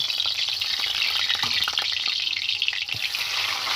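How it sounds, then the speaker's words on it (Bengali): Fish pieces fry in hot mustard oil in a wok, giving a bright, continuous crackling sizzle with small pops and light stirring scrapes, close and steady, with no talking. "করে নিয়ে মাছ কটা আমি এবার এর মধ্যে দিয়ে ভালো করে ভেজে নেব।"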